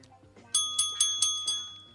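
A quiz-game bell rings five times in quick, even succession, bright metallic dings with a ringing tail, fairly close and loud over a quiet background.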